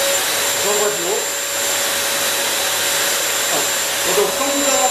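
A Bissell Crosswave 17132 wet floor cleaner runs up close, its motor giving a steady, loud whine and whoosh with a faint voice underneath.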